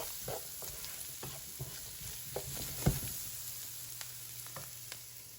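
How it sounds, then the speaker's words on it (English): Vegetables sautéing in a pot for Jamaican curry shrimp give a faint, steady sizzle with light stirring scrapes and soft taps throughout, no voices. "as this cooks down and the vegetables get sauteed"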